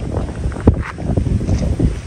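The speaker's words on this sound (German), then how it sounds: "sehr windig." Strong wind outdoors by a pond buffets the microphone in a steady, loud rumble with gusty swells and one sharp thump partway through.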